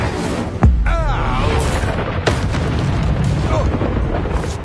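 An Incendio fire spell cast in the video game Hogwarts Legacy: a sudden booming burst early on, then a rumbling, whooshing flame roar with a second impact, set against continuous game sound and music.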